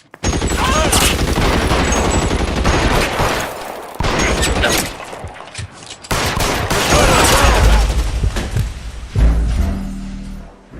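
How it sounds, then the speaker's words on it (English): Dense gunfire erupts during a police shootout in the video game L.A. Noire: loud, rapid volleys of shots and booms that rattle on almost without pause, with brief gaps before more bursts and heavy thuds near the end. "Shots fired"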